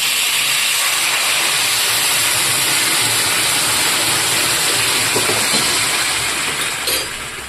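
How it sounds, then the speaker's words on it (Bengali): Hot water poured into a pan of Bengali basanti pulao gives a loud, steady steaming hiss that lasts throughout and fades slightly at the end. "এবার আমি এখানে গরম জল দিয়ে দিচ্ছি"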